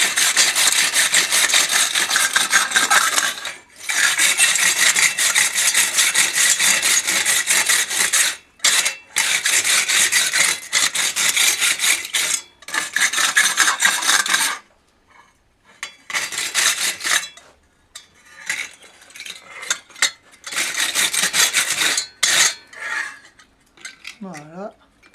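Metal pieces of hand-forged egg-picking tongs being scrubbed with a brush, producing loud, sustained rasping and scraping strokes in long bursts with brief pauses, alone without talk.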